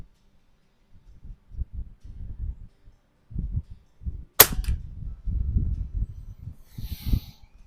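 A Rochester Precision air rifle fires one sharp shot at a range target 25 yards away. The crisp, brief crack stands out over low rumbling handling and wind noise.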